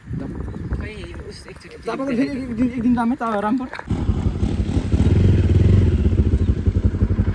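A motorcycle engine rumbles close by, growing louder toward the end, with people talking over it earlier.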